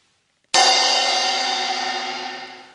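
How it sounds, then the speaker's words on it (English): A single crash of a cymbal, loud and washy, its bright shimmer decaying gradually over a couple of seconds with nothing else around it. "A cymbal."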